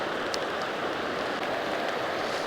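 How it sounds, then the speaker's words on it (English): Heavy rain pours steadily, a dense, unbroken hiss of drops on the water and bank at a riverside fishing spot, with no voices. "And of course, it's still raining like crazy."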